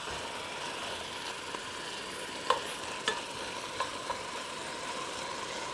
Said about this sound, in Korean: 이렇게 해서 이걸 또 달달달 볶아주세요.